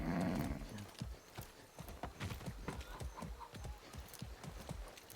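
Horse hooves clip-clopping in the video game Far Cry 6, a steady rhythmic trot of sharp, close hoof strikes over a low ambient background, with a brief louder rustle at the start.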